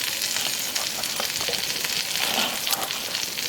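Egg-dipped bread for French toast sizzles steadily in a hot pan, a loud, even frying hiss that continues without pause.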